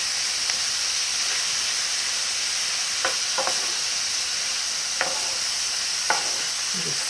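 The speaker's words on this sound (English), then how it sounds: "you're just cooking this until the meat is browned off, separating it" Ground beef crumbles sizzle and brown in a pan for cheeseburger soup, a steady frying hiss broken by a few sharp scrapes and clicks from the stirring utensil.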